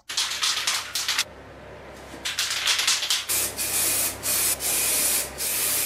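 Spray gun laying a tack coat of paint, bursts of close, loud hissing spray in short passes with brief pauses between them, and no talking.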